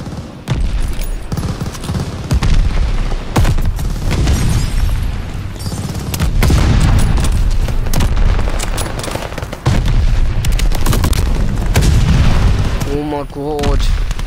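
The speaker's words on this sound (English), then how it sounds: "Friendly mortar fire coming." Friendly mortar fire in the multiplayer shooter Call of Duty Vanguard, on one of the new Season 2 maps: repeated heavy booms and blasts layered over continuous loud gunfire, with voices in the game mixed in.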